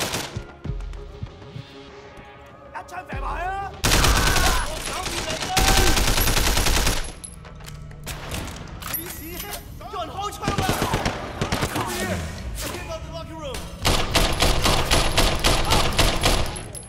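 Gunfire in the video game Sleeping Dogs, loud automatic bursts and scattered single shots trading back and forth with pauses between them, under occasional voices.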